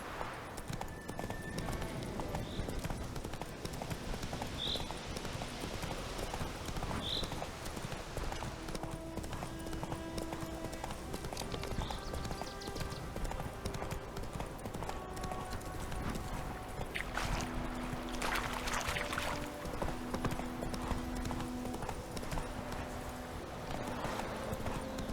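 The horse Roach gallops in The Witcher 3, hooves clip-clopping in a steady rhythm at moderate volume, with brief whinnies and faint game sounds mixed in.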